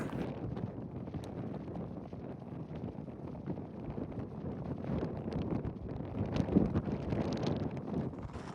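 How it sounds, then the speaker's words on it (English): Strong, steady wind buffets an exposed mountain trail near Mount Washington, a continuous rough roar close on the microphone with no let-up and no talking. "Wind is bad."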